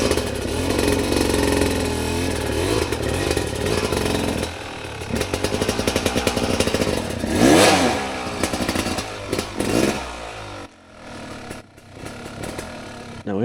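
A dirt bike climbs a rock slab with a loud, close engine that revs and strains in surges, while clatter from the rocks and a voice come through the engine noise.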